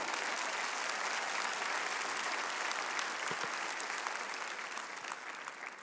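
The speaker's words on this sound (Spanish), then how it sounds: "Dele ese aplauso al Señor." A church congregation applauds during a Spanish-language Christian sermon, with steady, dense clapping that holds at a constant level for several seconds and fades slightly near the end.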